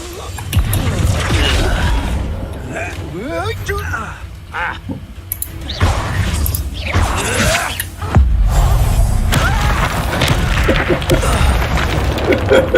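An Incendio fire spell goes off in the video game Hogwarts Legacy, with loud whooshing bursts and booming impacts layered over dense combat effects and a character's voice.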